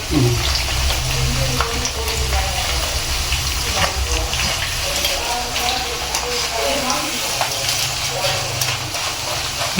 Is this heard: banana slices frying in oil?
yes